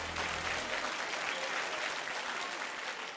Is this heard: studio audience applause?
yes